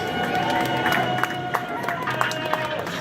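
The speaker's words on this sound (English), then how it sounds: "How about a nice round of applause for Jake, Skippy, Harry, Zippy, Dinky, and all the rest?" Audience applause on the Great Movie Ride theme park attraction: a steady crowd din with scattered claps and cheers, fairly close, running the full length.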